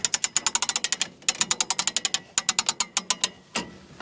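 A tree-feller jack ratchets as it is cranked to lift a car, giving a fast run of sharp metallic clicks in bursts with short pauses, and a final heavier clunk.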